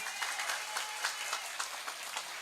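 Fairly faint applause from the congregation at an afternoon Islamic religious gathering, a steady patter of many hands clapping for a couple of seconds.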